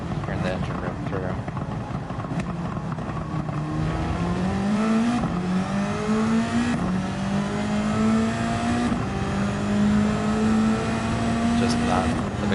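A Gran Turismo 7 race car engine roars close and loud, its pitch sweeping upward through repeated gear changes with brief dips between shifts, while a voice talks over it throughout.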